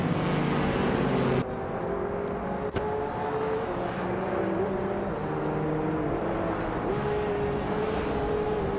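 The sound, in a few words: 2000 BMW Z8 racing at New Jersey Motorsports Park, video game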